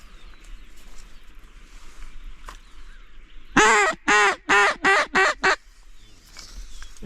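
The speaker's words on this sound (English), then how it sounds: "Here we got mallard coming from out front." Mallard ducks on a small creek during a duck hunt give a loud, close run of six quacks in quick succession, standing out against quiet outdoor background noise.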